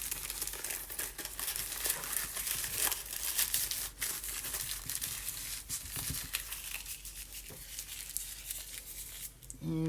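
Coffee filter paper crinkles and crumples steadily as it is folded by hand for an alcohol ink and Gelli plate craft, a close, continuous papery rustle with a few sharper crackles.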